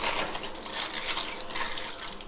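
Shower water running steadily in a home bathroom, a dense close hiss of spray with gentle splashing fluctuations, continuous throughout with no talk.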